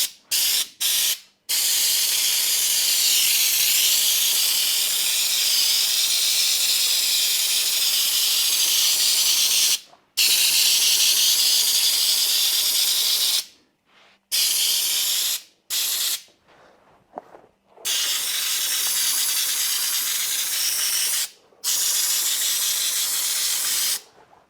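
Dinitrol rust-proofing sprays under a classic car in long, loud, close hissing bursts, cut by short pauses and a few quick stop-start spurts.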